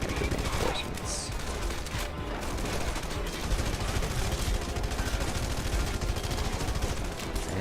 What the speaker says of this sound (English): So I'm just firing into the smoke here.